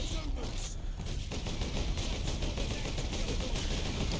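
Dense, continuous battlefield gunfire and heavy blasts from the Warhammer 40k Space Marine video game, a loud rumbling barrage with mortar shell fire, with faint talk underneath.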